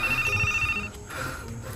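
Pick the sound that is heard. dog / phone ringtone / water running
phone ringtone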